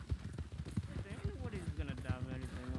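Horses in the Red Dead Redemption 2 roleplay video game clip-clop along in an even trotting rhythm, close and clear, while someone talks over the hoofbeats.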